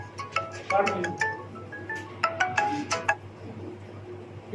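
A mobile phone ringtone chirps in a rapid melodic pattern, ringing in short bursts across the clip, heard faintly in a room during a math lesson.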